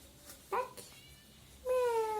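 A cat meows in the Scary Teacher 3D video game, giving two clear rising-and-falling calls separated by a short pause, close and prominent over a low background hum.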